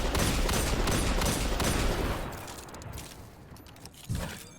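Sustained rapid gunfire in Destiny 2 aimed at shanks in the air, a dense loud burst that fades over a couple of seconds and ends with one more sharp shot, with no talking.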